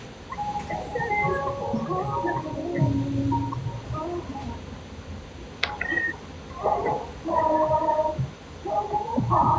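A cat meows repeatedly in short, irregular calls while following someone, mixed with bird chirps and soft background noise, the calls fairly close and moderately loud.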